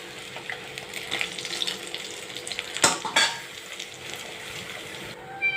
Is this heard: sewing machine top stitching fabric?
no